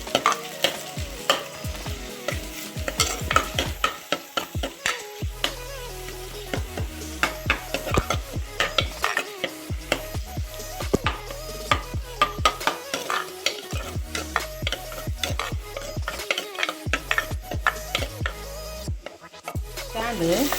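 Onion and tomato masala frying in a pan, stirred vigorously with rapid, repeated scraping and clacking strokes over a steady sizzle, close and fairly loud throughout.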